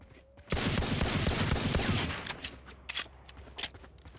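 In the video game Valorant, a rapid burst of automatic gunfire fires for about a second and a half, followed by several scattered single shots and echoing cracks.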